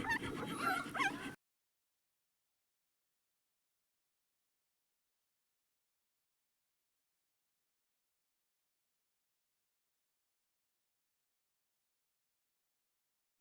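Newborn puppies and their mother dog whimper and yip in a short, busy burst close by, then the sound cuts to silence for the rest of the clip.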